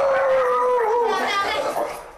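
A beagle with separation anxiety lets out a long, loud, wavering howl close by that slowly falls in pitch, with no talk over it.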